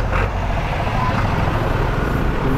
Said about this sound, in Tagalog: Napaka-traffic na. Ganito lagi dito. Kasi palengke.